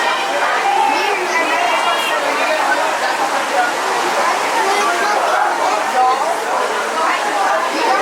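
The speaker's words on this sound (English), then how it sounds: "I must say, that was quite the fun log flume." Rushing, splashing water from a log flume ride at Six Flags Fiesta Texas, a steady roaring wash like a waterfall with people chattering throughout over the spray.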